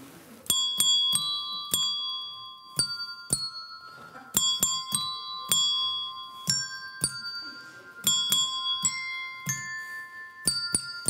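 Handbells rung as a music performance give bright, clear single strikes in an uneven, halting sequence, each tone ringing briefly before the next, with no talking.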